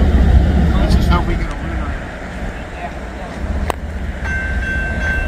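A BNSF freight train rolls past a railroad crossing with a loud, continuous low rumble of wheels and cars, with a brief high tone near the end.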